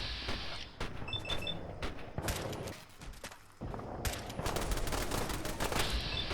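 Defensive turrets firing in Fallout 4, rapid bursts of automatic gunfire crackling repeatedly over a dense, noisy battle, with brief lulls between volleys and a few metallic mechanical clicks.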